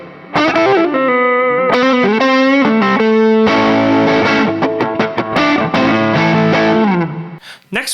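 An electric guitar runs through a Tube Screamer-style overdrive pedal, playing sustained distorted notes and bends, then a flurry of picked notes, loud and up close.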